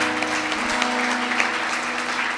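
A church congregation claps together in a brief, lively burst of applause, full and sustained, with a faint low tone lingering underneath.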